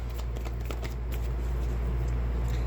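Deck of tarot cards being shuffled, with a soft, continuous riffling rustle over a steady low background hum. It is moderately close, with no talking.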